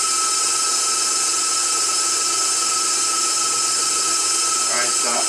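Electric sausage stuffer running steadily while filling kielbasa casing, a loud, constant high-pitched motor whine throughout with no break.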